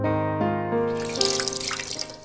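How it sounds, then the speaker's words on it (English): A towel soaked in ice water is wrung out in the horror dating game Bloody Painter. Soft tonal music gives way to a bright, splashing trickle of water that runs for about a second. "wring out the excess water from a towel soaked in ice water and place it on his forehead"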